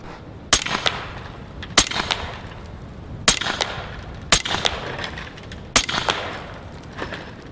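Gunshots from a Western Rattler .45 Long revolver fired at a brick and a cinder block: five sharp, loud reports spaced about a second apart, each with a short crack and brief echoing tail, no talking.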